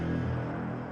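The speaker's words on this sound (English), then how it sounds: "so the brass ensemble library from Native Instruments" A sustained, dense low brass ensemble blast from a Native Instruments sample library, loud and full, held steadily for the whole second with no other sounds.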